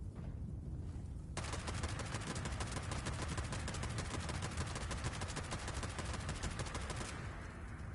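Sustained automatic gunfire from a Fallout 76 weapon emptying a full magazine, dense rapid shots running loud and unbroken for about six seconds before stopping, with no talk over it.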